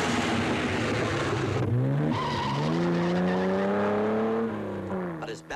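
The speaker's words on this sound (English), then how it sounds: "The Porsche is frantically trying to make up time lost further down." A Porsche rally car climbs a mountain hairpin road in the Coupe des Alpes, its engine revving hard and rising in pitch through the gears, loud and close, then easing off as it drives on.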